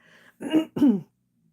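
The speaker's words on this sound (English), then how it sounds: "I'm just having a little coughing spell before I got on." Two harsh throat-clearing coughs close to the microphone, one right after the other, then quiet.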